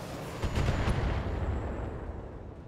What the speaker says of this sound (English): so fire the LRMs